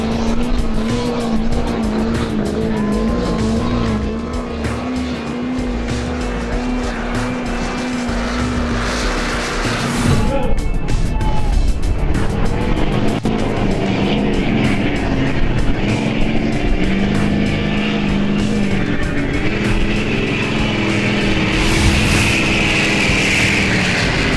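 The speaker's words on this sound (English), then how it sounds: "You notice all the noise, the diesel and smoke?" A diesel truck hauls a weighted sled at a county fair truck pull in Antelope Valley, its engine roaring loud and continuously close by, the pitch climbing and straining as the load shifts, with no talk.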